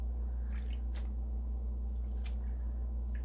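Wet wool fleece is pressed down into hot soapy water, giving a few soft squishing and dripping sounds over a low steady hum.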